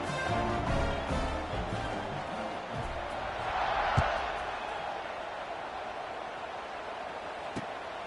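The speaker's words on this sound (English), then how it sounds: "this crowd is buzzing after that last score" Stadium crowd in the NCAA Football 26 video game buzzing in the fourth quarter after a score: a steady, broad roar of many voices throughout, rising slightly near the middle, with a commentator talking over it.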